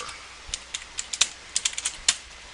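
Computer keyboard keys typed in a quick, irregular run of about a dozen sharp, close clicks, with short pauses between bursts and no talking.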